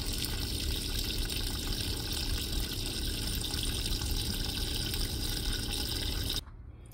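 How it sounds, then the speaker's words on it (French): Water pouring into the tub of a portable washing machine over laundry for the rinse, a steady loud gushing rush that stops abruptly near the end, leaving a quiet hum. "Et nous allons remplir jusque que le linge soit recouvert"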